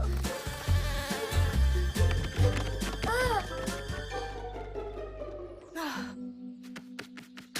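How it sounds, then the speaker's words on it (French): Cartoon bee wings buzz for Maya the Bee, a busy droning hum among several bees, mixed with voices and bright tonal sound effects before fading to sparse clicks. "Bourdonne des ailes, Maya. N'oublie pas de bourdonner."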